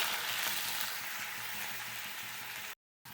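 A dried chilli, nigella seeds and bottle gourd peels fry in hot oil, a steady close hiss and crackle of sizzling that holds constant, breaks off briefly for a moment of silence, then resumes.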